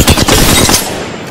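Rapid burst of automatic gunfire in Apex Legends, loud and close, several quick shots running together before trailing off.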